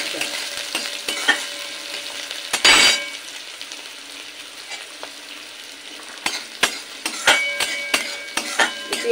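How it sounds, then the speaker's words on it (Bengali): Finely chopped onion fries in oil with whole cumin seeds, giving a steady, moderate sizzle. A sharp burst of louder sizzling comes as the onion is stirred, and occasional clinks of a utensil follow. "পেঁয়াজ কুচিটা একটু লাল করে ভেজে নেব।"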